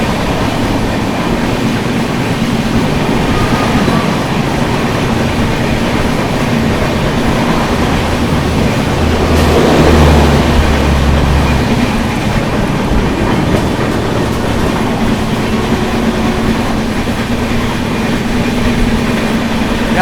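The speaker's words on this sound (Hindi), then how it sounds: "यहाँ पर अपनी पूर्वा एक्सप्रेस ने जो है दामकुनी जंक्शन को स्किप किया है" Purva Express passenger train running through Damkuni Junction without stopping, steady rumbling wheels and clickety-clack heard from on board, with a brief louder swell midway as it crosses.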